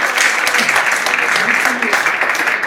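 Continuous audience clapping at a live concert, a dense, even patter with a voice speaking over it, moderately loud and close.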